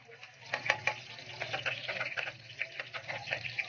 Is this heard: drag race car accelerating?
no